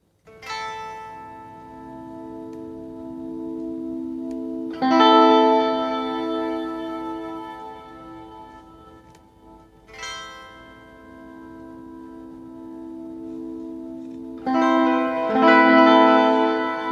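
An electric guitar played through a Classic Audio Effects Volume Roller pedal swells in and out: sustained chords fade up from silence, ring out with reverb and decay, then rise again in three or four slow swells, no talking.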